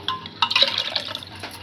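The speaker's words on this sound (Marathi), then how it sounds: "थोडं पाणी टाकतो" Water splashes briefly into a pot of cooked dal in short gurgling bursts over less than two seconds; close and fairly loud, with no speech.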